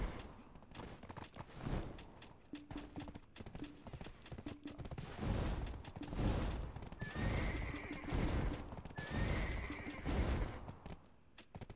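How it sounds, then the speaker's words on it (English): Horses neigh loudly over a steady clatter of galloping hooves, with sharp bangs and crashes mixed in from a busy siege battle in a video game. "I'm moving with horses, moving with horses"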